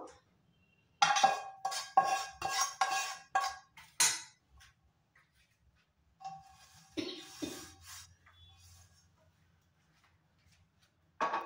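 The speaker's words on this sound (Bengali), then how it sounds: "আবার প্যানটা বসিয়ে দিলাম।" A frying pan is handled and set back on a stove while making a spicy jhal mixture: a run of bright metallic clanks and clinks in quick succession, then a few softer knocks after a pause.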